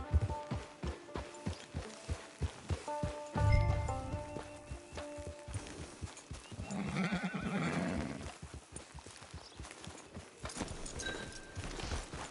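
Horse in Red Dead Redemption 2 gives a loud neigh amid steady, rhythmic clip-clop hoofbeats on a trail, with the hooves continuing throughout.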